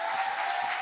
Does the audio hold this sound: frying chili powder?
no